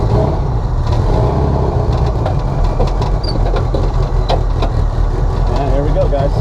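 A turbocharged 1967 VW Bug drives along, its engine droning loud and steady up close as it shifts through the gears, with brief changes in pitch.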